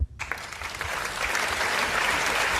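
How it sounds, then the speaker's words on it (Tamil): A studio audience on a Tamil TV game show bursts into applause after a brief pause, the clapping swelling quickly into a dense, steady, sustained roar. "அதுக்கு இன்னொரு கைதட்டு"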